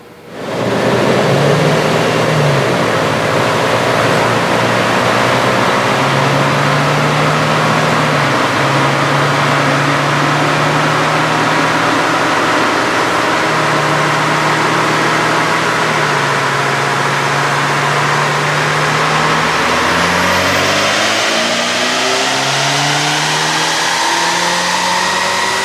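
A 2019 Ford Ranger engine revving hard on a dyno during a pull on a 93 octane tune, heard as a loud steady drone that climbs in pitch and then winds down near the end.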